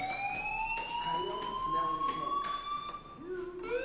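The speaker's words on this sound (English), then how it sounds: "do you hear that fire alarm?" Fire alarm in the video game Life is Strange, a steady high electronic tone that slowly rises in pitch and carries on throughout, with a voice speaking faintly underneath.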